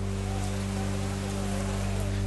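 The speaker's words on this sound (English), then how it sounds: "As the wet season rains pour down" Heavy wet-season rain pouring down steadily at the Pasuruan immigration detention centre in East Java, a dense continuous hiss with a low steady hum underneath and no voices.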